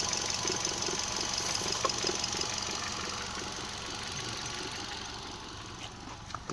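A 2012 Hyundai i10 Sportz petrol car engine idles steadily close by, a continuous low hum with faint rhythmic ticking running evenly throughout with no voices.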